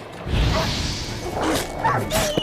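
Dogs bark and yelp during a combat encounter in the video game The Witcher 3: Wild Hunt, several close barks over a dense bed of game sound effects.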